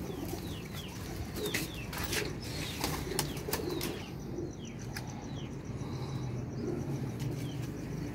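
Young flying pigeons coo and flap their wings in a loft, with soft repeated calls and occasional bursts of wingbeats over a steady low background hum.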